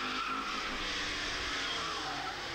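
A car spinning out on the Nordschleife during a public lap, a continuous loud tire skid and squeal heard alone for a few seconds.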